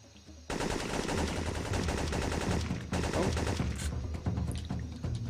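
Sustained automatic gunfire from the PS1 video game Syphon Filter 3, a dense loud burst of rapid machine-gun shots running nearly continuously after a brief quiet start, with a short dip midway.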